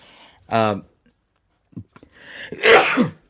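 A sharp sneeze rings out, followed after a pause by a second louder, breathy sneeze, close to the listener.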